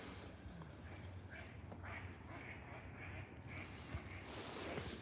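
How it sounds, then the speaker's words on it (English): Ducks quack faintly in the distance on the water over a steady outdoor wash of water and wind noise, on a winter trail at State Farm Park in Kettering. "There's some ducks over there"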